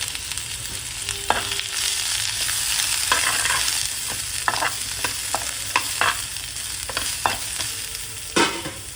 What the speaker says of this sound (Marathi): आता ह्या तेलामध्ये आपण हा कांदा उभा कापलेला आहे तो पण भाजून घ्यायचा आहे